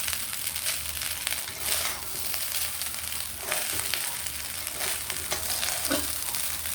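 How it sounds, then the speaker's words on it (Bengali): Cooked rice for sweet polao is gently stirred in a hot pan, giving a steady soft sizzle with light scraping strokes throughout, no talking. "একটু করে ভাতগুলো তুলবো আর আমি নাড়তে থাকবো"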